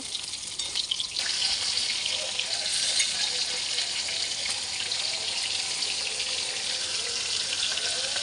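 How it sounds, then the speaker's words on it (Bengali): Pieces of rohu fish crackle and sizzle in hot oil in a wok, a dense, steady hiss with small pops that carries on evenly and close by, with no talking. "মাছগুলো এবার গরম তেলের মধ্যে দিয়ে দেবো"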